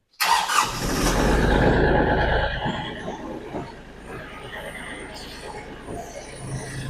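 A tractor engine cranks and fires, roaring loudly at first, then settling into a steadier idle as it warms up after a snowstorm, with a voice briefly audible.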